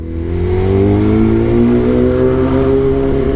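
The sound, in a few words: Kawasaki ZX10R motorcycle engine revving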